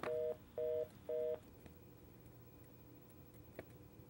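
A telephone call connects during a radio show, with three evenly spaced dial tone beeps followed by faint clicks and a quiet line.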